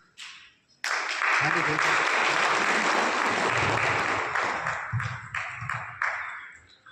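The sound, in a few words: audience applause at Sant Ravidas Jayanti event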